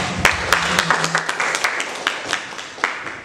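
An indoor audience gives applause after a teachers' dissemination talk, with scattered individual claps that rise and fall in uneven bursts over a low hum.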